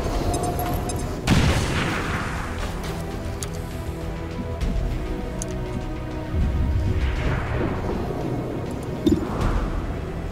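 An incendiary grenade detonates in XCOM Long War 2 with a sharp boom, followed by further thuds and crackling bursts of a tactical battle, moderately loud.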